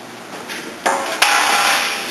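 Two sharp knocks on a piece of aluminum trailer running board for a horse trailer, a louder strike followed by a second, ringing briefly with a bright metallic tone in a quiet room.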